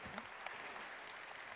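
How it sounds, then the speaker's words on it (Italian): Brief, faint burst of clapping from an audience, a soft continuous patter heard from a distance. "ancora un applauso"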